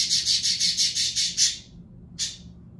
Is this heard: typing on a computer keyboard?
no